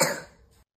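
One short, close cough that fades quickly, followed by a faint breathy tail and silence.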